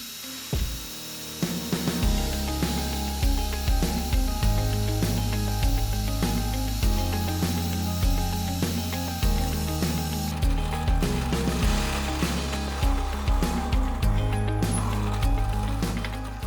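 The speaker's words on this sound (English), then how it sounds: "let's get back to the handle and sand it to its final shape using the disc sander" A disc sander shapes a handle for a homemade table saw, its motor whining continuously as the pitch steps down and recovers each time the workpiece presses against the disc. No one speaks.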